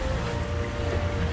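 Wind rushing over a sailboat at night in breezy, wild conditions, a steady low roar and buffeting close to the microphone with no voices.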